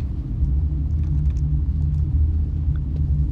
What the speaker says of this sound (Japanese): 雷鳴ってんのか。